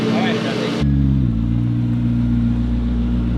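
A car engine revs and settles into a steady low drone as the vehicle pulls away on brand-new tires, close and loud, with a voice talking over it.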